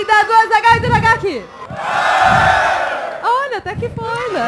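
A live crowd of fans at a nerd-culture spelling contest roars in a loud sustained cheer for about a second and a half, framed by excited speech before and after.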